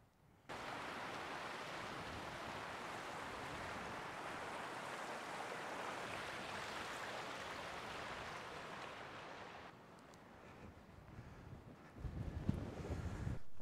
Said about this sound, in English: The wind's picking up, but it's actually not too bad.